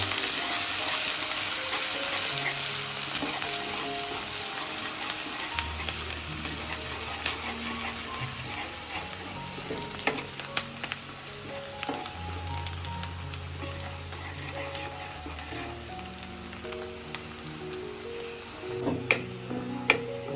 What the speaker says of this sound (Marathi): लसूण ठेचून टाकले तो आणि कांदा बारीक करून घेतला येतो तो पण टाकून मस्त परतून घ्यायचा